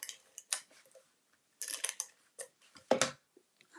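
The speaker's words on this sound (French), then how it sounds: "Je vais utiliser le dérouleur de colle." A glue tape roller runs across paper in short, dry rasping strokes, several separate passes with quiet gaps between them, close and fairly soft.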